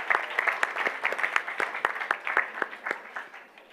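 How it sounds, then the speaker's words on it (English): An audience applauds student performers at a legislative meeting with live orchestra music, a steady run of close, individually distinct claps that keep going throughout. "Another round of applause for Washington and Ms."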